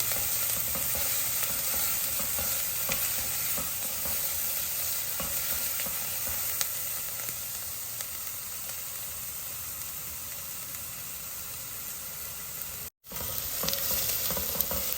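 Food sizzles and fries steadily in a pan while sweet corn soup is being prepared, a continuous close hiss of oil and steam with faint stirring scrapes and no voices.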